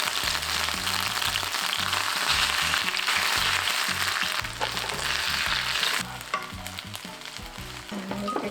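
Chicken wings fry in hot oil until golden, giving a loud, dense, continuous sizzle that stays steady throughout and eases slightly in the final seconds.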